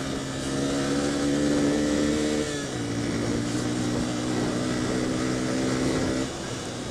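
A Yamaha FZS 150, a small 150cc motorcycle with worn tyres, ridden on a rough road in Pokhara, Nepal, holds a steady buzzing engine drone that drops in pitch partway through, as if shifting gear, then holds steady again.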